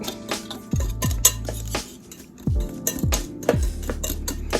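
A utensil clinks and taps sharply against a bowl as lumps of cake mix for a cherry-pineapple dump cake are broken up, in an irregular run of close metallic knocks.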